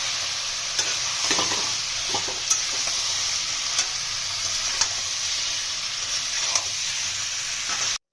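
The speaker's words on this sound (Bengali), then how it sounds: "ভালোভাবে মশলাটা কষিয়ে নিই মশলাটা কষার গেছে মাংসটা দিয়ে দেবো টমেটোটা দিয়ে দেবো" Spice paste with chicken, turmeric and tomato sautéing in a pan: a steady, close sizzle broken by irregular scraping stirs, with no voices.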